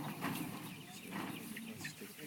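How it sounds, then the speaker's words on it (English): Pastured chickens in a farm pen being moved cluck and murmur softly at close range, a steady low flock chatter with a few louder calls and faint rustling. "These birds have already been moved this morning,"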